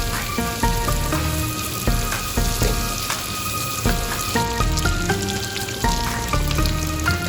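Cauliflower, carrots and peas stir-fry in a hot pan with continuous loud sizzling, punctuated by rhythmic clanks and scrapes of a spatula against the metal.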